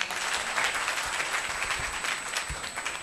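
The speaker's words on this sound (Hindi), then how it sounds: "ताली बजाओ" A devotional gathering's audience claps in a dense, fairly faint patter of applause that runs steadily for a few seconds, with scattered sharper individual claps.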